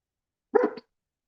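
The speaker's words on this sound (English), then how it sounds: "Why are you barking, little doggy?" A single short bark from a small dog, close and fairly loud, alone in otherwise silent surroundings.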